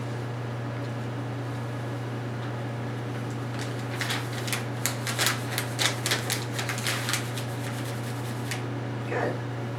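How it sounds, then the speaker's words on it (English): Paper rustling near a puppy, a burst of crisp crackling and crinkling in the middle over a constant low electrical hum, fairly close, with a brief final rustle near the end. "Some puppies shy away at the noise of the paper."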